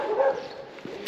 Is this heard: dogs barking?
yes